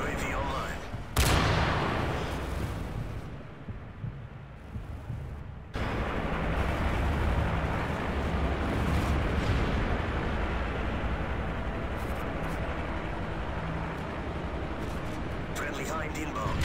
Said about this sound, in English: Friendly strafe run incoming.